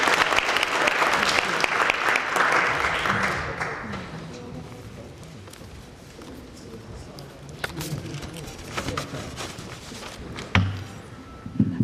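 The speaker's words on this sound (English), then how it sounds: "So if we can applaud for her at this time" Audience clapping at an Illinois governor candidates forum, a dense burst of applause that swells and then thins into scattered claps over low murmuring and a few knocks, the crowd's voices audible beneath.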